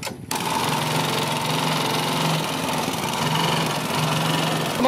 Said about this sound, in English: used some very worn out engine again